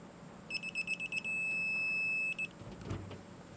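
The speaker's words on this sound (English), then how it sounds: "you're just going to listen for a steady beep noise" Digital torque wrench tightening a fitting on 5/8 copper tube: a series of quick rhythmic beeps as torque builds, then one steady, sustained beep signalling full torque, close and clear, followed by brief handling clicks.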